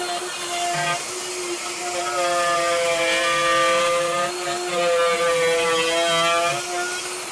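A router with a template guide cuts through scrap MDF, a loud steady whine whose pitch dips and rises as the bit works along the template.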